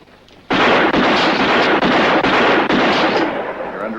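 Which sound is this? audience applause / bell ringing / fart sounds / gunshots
gunshots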